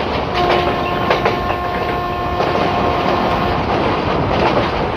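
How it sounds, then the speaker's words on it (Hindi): A WAG 7 locomotive hauling ICF coaches in a train simulator game on a Kerala valley route, giving a steady, loud rolling rumble of wheels on track with faint rhythmic clicks and a few sustained tonal hums throughout. "अच्छी ट्रैक साउंड आपको आ रही है इस तरह की"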